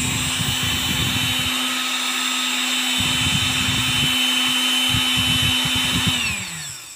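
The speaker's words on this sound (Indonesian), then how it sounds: "untuk putaran as dari dinamo DC ini atau motor DC ini" A small DC motor spins with a steady high whine and a rattling buzz under test, running continuously and close before slowing and winding down at the end.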